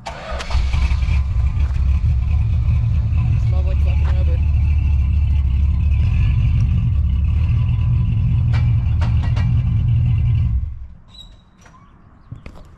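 A 1965 Chrysler New Yorker revving hard during a burnout attempt. The loud, heavy engine roar holds for about ten seconds, then drops off abruptly, leaving faint background noise.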